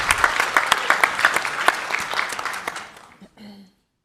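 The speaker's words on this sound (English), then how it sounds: "please give them a round of applause." Audience applause at a library panel forum, a dense patter of clapping hands that fades out after about three seconds, with a brief trailing sound at the end.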